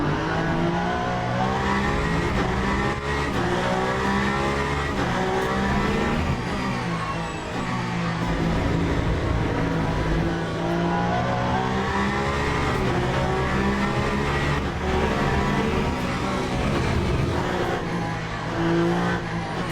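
Race cars in a racing video game at the Qatar circuit braking late into a corner, a dense, loud engine roar running throughout with shifting revs and faint tyre squeal, no voices.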